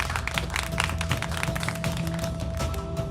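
Scattered clapping in a hospital setting, a steady patter of many hands at moderate distance with a faint tonal hum running underneath.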